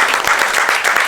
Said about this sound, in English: Let's give our chef Jose a good applause for a good job.